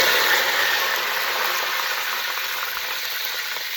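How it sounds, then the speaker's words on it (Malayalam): Mustard seeds and curry leaves sizzle in hot oil for a chicken curry, a steady bright crackling hiss that softens slightly over a few seconds, with no talk. "എണ്ണ ഒഴിച്ച് വെച്ച് അതിലോട്ട് കുറച്ച് കടുകിട്ടു. അതിൻ്റെ അകത്തോട്ട് കുറച്ച് കറിവേപ്പില"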